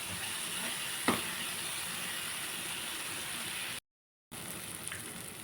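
Ginger, garlic and spinach fry in oil, giving a steady, soft close-up sizzle and hiss with one brief clatter early on and a short dropout near the end.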